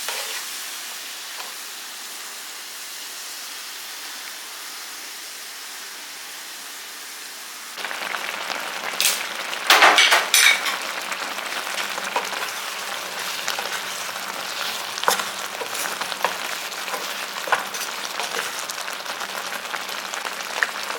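Citron pieces with rock salt sautéing in a pan, a quiet hiss at first that jumps to a louder, steady sizzle partway through, scattered with sharp scrapes and clinks of a spatula against the metal, close and without speech.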